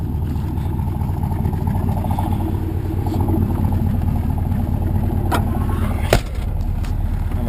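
A 1963 Corvette drives along, its engine a steady low rumble with road and wind noise filling the cabin, constant and fairly loud, with a couple of brief sharp knocks near the end.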